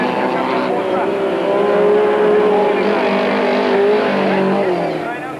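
Race cars roar around the track at a 1997 Super Series event, a steady, dense engine drone that swells slightly mid-way, with a commentator talking over it throughout.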